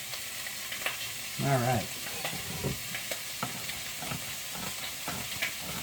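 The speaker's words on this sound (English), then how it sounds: "I'm going to saute all this together" Meat and garlic sauté in a pot for a homestead bean soup, giving a steady close sizzling hiss with stirring scrapes. A person speaks one short word partway through.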